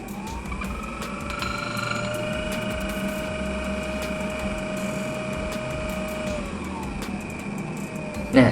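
A Cosmo G64 single-dose coffee grinder's motor speeding up from a low setting, its whining tone climbing in pitch within the first two seconds, then holding steady and loud until a brief knock at the end.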